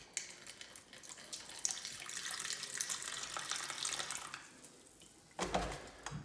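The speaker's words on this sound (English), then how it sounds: "take your vinegar, open it up, put a little bit in the Tupperware" White vinegar is poured into a small Tupperware container as a quiet, continuous trickle for several seconds, close-up, followed by a brief louder clatter near the end, with no talking.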